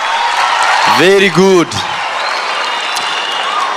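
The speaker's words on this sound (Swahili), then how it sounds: "Makofi kwa mheshimiwa Ndindi Nyoro, makofi kwa mheshimiwa" A crowd applauds Ndindi Nyoro at a Kiharu students' career fair, with continuous broad clapping and a short spoken phrase briefly rising over it.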